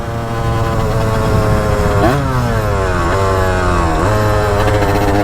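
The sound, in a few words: motorcycle engine revving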